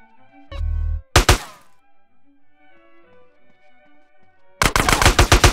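Rapid bursts of video-game gunfire from Grand Theft Auto: San Andreas, one short volley early and a longer rattling burst at the end, loud and close, with quiet game ambience between.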